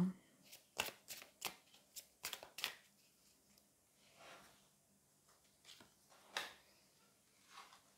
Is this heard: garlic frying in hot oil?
no